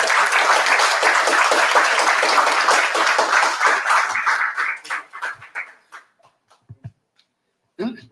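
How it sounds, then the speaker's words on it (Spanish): An audience at a book presentation in a Veracruz bookshop applauds the arriving guests, a loud, dense round of clapping that thins out into scattered claps and fades, followed by a brief voice. "recibimos con un aplauso a nuestros invitados"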